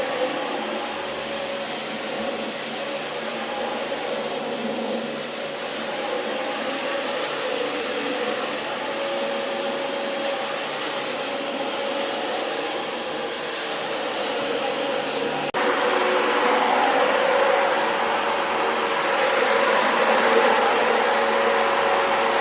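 A Dyson DC25 vacuum cleaner runs continuously in a house, its motor whining with a steady hum and whooshing exhaust air, growing a little louder and brighter near the vents partway through.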